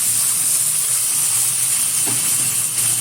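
A spice paste of ginger, onion, garlic, cumin and chilli fries in hot oil with turmeric, a loud steady sizzling hiss close up, with a brief stir partway through.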